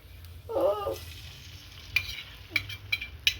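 Egg omelet ingredients are stirred together with ketchup and mayonnaise: a short, wet squelching swirl, followed by a few light clicking scrapes of the utensil against the bowl, close and fairly quiet.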